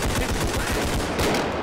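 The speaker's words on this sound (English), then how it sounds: "Somebody shoot at me?" Rapid automatic gunfire in a realistic shooter video game, a loud, close burst of repeated shots rattling without pause for the whole moment, no talk over it.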